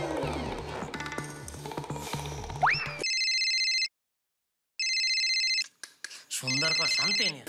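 A telephone rings with a steady electronic tone in repeated bursts, with gaps between them, heard loud and clear after a noisy stretch of music and commotion.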